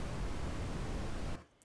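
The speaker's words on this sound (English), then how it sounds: "brown noise," Brown noise generated in SuperCollider plays as a steady, loud, bass-heavy broadband rumble for over a second, then cuts off abruptly into near silence.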